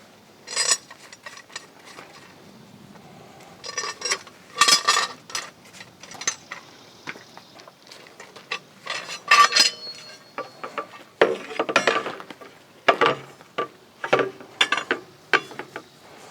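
Metal straps are worked loose from an 8 by 3/4 inch double-strap bronze tapping saddle on 8 inch PVC pipe, giving scattered metallic clinks, rattles and ratchet-like clicks in irregular bursts, fairly close and with no talk.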